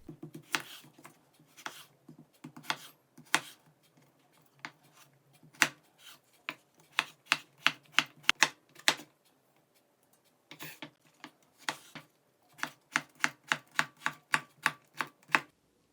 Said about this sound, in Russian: Теперь нарежем огурец тоненькими и маленькими кусочками